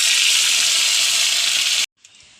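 Leaves are dropped into hot oil already holding mustard seeds and fenugreek for a sambar tempering, giving a loud, close, steady hiss that lasts about two seconds and then cuts off abruptly.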